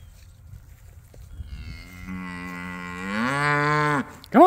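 On a farm, a cow gives one long, rising moo that swells louder toward the end and then stops, with a brief second call starting just as the clip ends.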